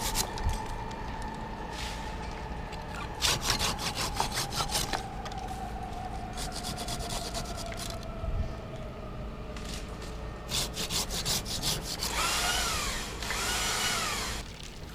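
A chainsaw cuts pruned tree branches into small stubs while pollarding, giving bursts of rough cutting noise with pauses, a steady engine drone underneath and a brighter whine near the end.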